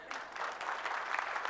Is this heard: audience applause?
yes